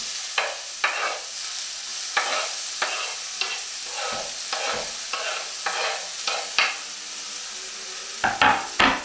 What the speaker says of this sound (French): nous allons verser l'échalote dans la poêle